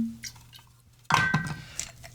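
Añejo tequila is poured for an agave cocktail, a short splashing liquid pour starting abruptly midway and trickling briefly, close and moderately loud after a quiet start.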